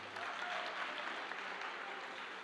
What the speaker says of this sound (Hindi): तालियां बजा के बच्चे का हौसला अफजाई करें।